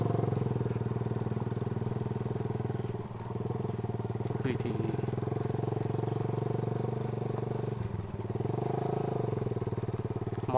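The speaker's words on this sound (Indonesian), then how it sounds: "Parkir motor di atas." A motorcycle engine runs steadily up close with a continuous hum, nearly unbroken for the whole stretch after arriving at a hillside bathing place, with faint voices in the background.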